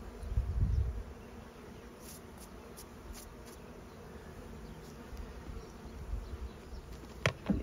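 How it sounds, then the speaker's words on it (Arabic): Honeybees buzz steadily as they are shaken off a hive frame during hive inspection, a continuous close insect drone with a few louder thumps and brief bursts, no talking. "الآن عملية تخليص النحل من الإطار، نهز عملية التنظيف، نشيل النحل كله كامل."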